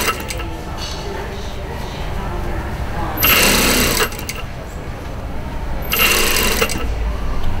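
A sewing machine stitches a short sleeve with a foldback cuff in two bursts of steady whirring, with talk between and over them.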